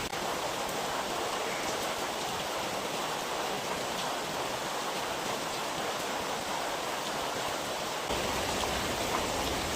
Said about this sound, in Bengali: এখন প্রায় প্রতিনিয়তই বৃষ্টি হয়েছে, আর বৃষ্টির মাঝে কাম করছি ভিজে ভিজে